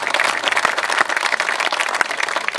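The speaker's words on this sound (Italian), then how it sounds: "Quindi io farei un grande applauso" Dense, steady applause from an audience at a ceremony by a curve of the SS17 road in Antrodoco, tied to the Mille Miglia. Many hands clap at once, loud and sustained, for the whole stretch with no talk over it.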